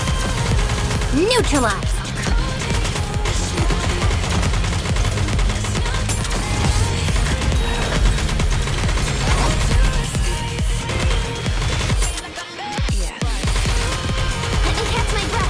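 Heavy gunfire rattles in Goddess of Victory: NIKKE, dense continuous automatic shooting with a loud, busy battle texture and a brief drop near the end, while a voice speaks over it.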